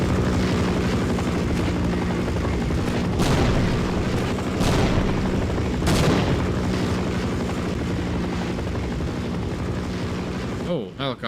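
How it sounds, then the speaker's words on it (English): Helicopter flying overhead in a Half-Life mod game, a steady loud rotor drone running throughout, broken by several sharp booms, with a person talking over it. "Oh, helicopter."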